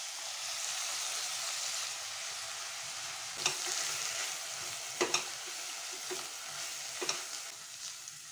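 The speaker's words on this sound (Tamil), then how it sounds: "புதினா, மல்லி, மிளகாத்தூள், மல்லித்தூள், கரம் மசாலா எல்லாம் சேர்த்து நல்லா வதக்கிக்கோங்க" Mint, coriander, green chillies, chilli powder, coriander powder and garam masala sautéing in oil on a low flame for veg biryani make a steady broad sizzle. A few sharp stirring scrapes cut through it, and no one speaks.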